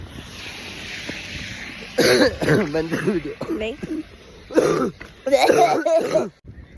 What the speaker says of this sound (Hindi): खांसी ठीक ही नहीं हो रही।